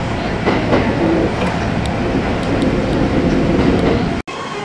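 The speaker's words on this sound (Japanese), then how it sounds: "列車は大和西大寺に到着。" Kintetsu Kashihara Line express train pulling into Yamato-Saidaiji station, a loud steady rumble of wheels and rail clatter that runs throughout, cutting out abruptly near the end.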